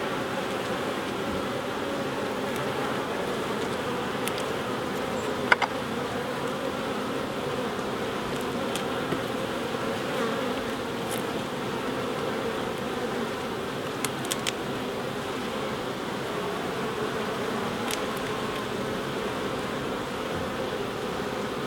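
Honey bees buzz steadily around an open hive during an October inspection, a dense, continuous hum with occasional faint clicks and knocks from frames being handled nearby.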